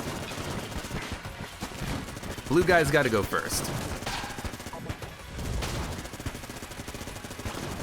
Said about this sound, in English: At least we've got the Vulcan cannon.